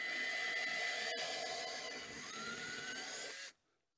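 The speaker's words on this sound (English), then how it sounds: "So I'm going to go ahead and drill this one." A 3/16 drill bit bores into an RV roof vent area, a steady high-pitched whine droning close and loud for about three and a half seconds before cutting off abruptly.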